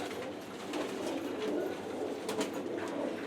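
High-flyer pigeons at a pigeon fair coo softly amid a faint, busy crowd murmur, with brief scattered rustles and clicks in the background.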